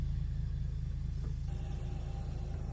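A tourist bus in the game Tourist Bus Simulator drives along with a steady, loud low engine rumble and drone throughout, no voices over it.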